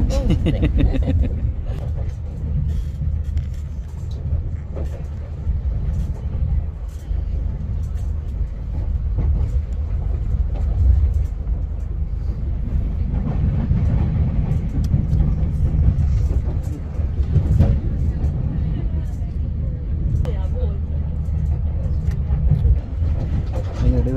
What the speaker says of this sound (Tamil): ட்ரெயின் ஃபாஸ்ட்டாக போகுது